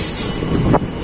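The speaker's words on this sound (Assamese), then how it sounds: "ট্ৰেইনখন আৰম্ভ হ'ল এতিয়া ৰঙিয়াৰ পৰা গুৱাহাটী" A train pulling out from Rangiya toward Guwahati rumbles steadily close by, with a brief metallic squeal of wheels rising near the end of the short stretch.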